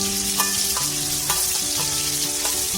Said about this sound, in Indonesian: Pertama-tama aku akan menggoreng perbumbuan seperti bawang merah, bawang putih, tomat,